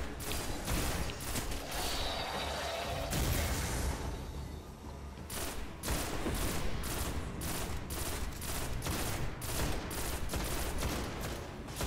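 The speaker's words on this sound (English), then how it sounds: "Shoot them. Shoot those traps." Rapid gunfire from the video game Destiny as a player shoots at traps. Loud, close bursts of shots repeat densely, with a brief lull partway through before the firing picks up again.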